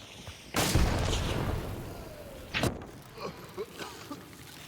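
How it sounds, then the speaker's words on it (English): Explosions and blasts in the video game Hunt Showdown: a loud boom opens, then a second sharp burst, followed by a few softer impacts trailing away, no voices. "body hit and an explosion"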